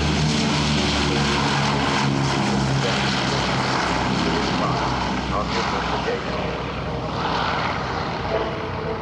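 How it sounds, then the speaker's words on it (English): A B-17 Flying Fortress, the Memphis Belle, flies past at an airshow in Hamilton, Canada, its piston engines giving a loud sustained propeller drone while an announcer speaks over the public address. "the B-17 Memphis Belle, ladies and gentlemen"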